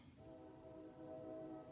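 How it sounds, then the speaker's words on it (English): A passing train sounds faintly from outside, a sustained tonal horn-like drone holding steady and distant behind an indoor card-making session. "that's the train going by"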